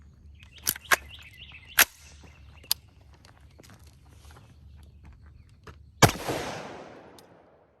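Single rifle shots of 5.56 Hornady TAP 55-grain training ammunition fired at a Level IV ceramic armor plate ring out as several sharp, separate cracks. The loudest report comes near the end and trails off into a long decaying echo, with faint background noise between shots.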